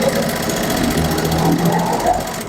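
A sewing machine runs steadily while stitching, a loud, fast, even mechanical chatter that keeps up without a break for the whole short stretch.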